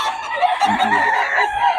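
Several roosters crow over one another in a steady, overlapping chorus, fairly close and loud, with a few clucks mixed in.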